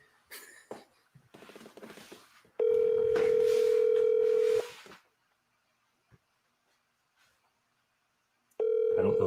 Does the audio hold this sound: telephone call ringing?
yes